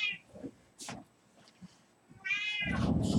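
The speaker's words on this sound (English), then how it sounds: "Kitty." A house cat meows twice, a short cry followed later by a longer, louder drawn-out meow that runs to the end, close to the microphone against a quiet room during a live stream.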